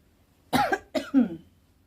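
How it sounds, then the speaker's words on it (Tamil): Three short, close coughs, two quick then one more, triggered by dust from a cotton bedsheet that had been packed away in storage, in an otherwise quiet room. "டஸ்ட்டு ரொம்ப அப்படியே பேக் பண்ணி வச்சனால இருமல் வருது"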